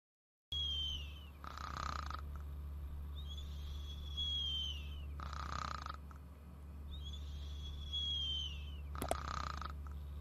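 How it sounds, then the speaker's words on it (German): Slow, deep snoring repeats in three rhythmic breaths over a constant low hum, with faint bird-like chirps drifting between the snores. "Ihr hört das Schnarchen?"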